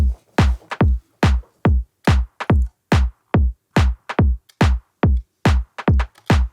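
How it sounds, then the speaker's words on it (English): A groovy ghost clap drum sample programmed in FL Studio for a house beat repeats as sharp, punchy clap hits in a loose, swung rhythm, with quieter ghost hits between the main claps and no voices. "Next I have this like groovy ghost clap."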